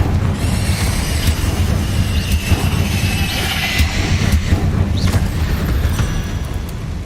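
An explosive Confringo spell in Hogwarts Legacy sets off a loud, rumbling blast texture that stays dense and booming throughout, with faint higher whooshes on top and no talk.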